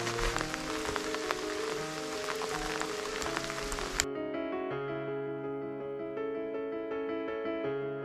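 Rain patters steadily for the first half, then cuts out abruptly, leaving a sustained droning hum with layered tones for the remainder.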